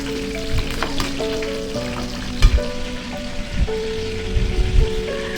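Fish deep-fries in hot oil, a dense, steady bubbling sizzle close to the pan, with a few dull knocks and clatter as pieces are lifted out, no voices.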